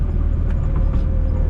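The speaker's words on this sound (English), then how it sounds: "Just annihilates the tires." A turbocharged EF hatchback pulling hard under heavy acceleration, its engine drone loud and steady throughout with a broadband roar that suits spinning tires, no talk over it.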